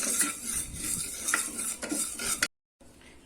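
Moong dal dry roasting in a pan for sambar, stirred with a utensil: close, steady scraping and light clinking against the metal for a few seconds, then a brief silence and a softer resumption.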